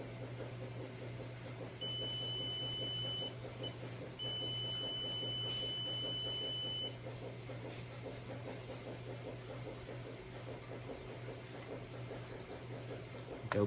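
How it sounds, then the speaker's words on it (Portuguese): A multimeter set to its resistance range beeps during a continuity test on the switch of a USB fan: two steady high tones, one short and one longer, over a low hum, then quiet. "na escala de resistência, aquela que dá um apitinho"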